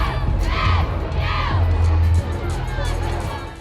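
A gymnastics team and crowd shout in loud, rising unison bursts during a floor routine, two big cheers followed by excited crowd noise that fades slightly at the end.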